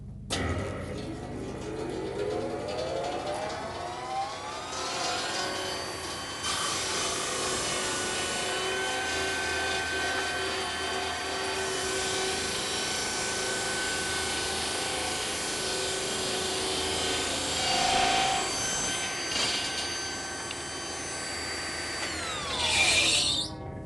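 A circular rip saw spins up with a rising whine, drones loudly and steadily while cutting timber, then winds down at the end, its tone shifting slightly as the wood feeds through.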